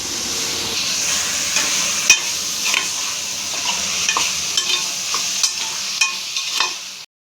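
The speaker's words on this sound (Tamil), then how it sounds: "இப்போ கல்லீரல் எல்லாம் போட்டுக்கலாம்." Liver stirred into a frying pan with tomato for a home-cooked dish, giving a steady close sizzle and hiss with scattered scrapes and clinks of stirring, no voices.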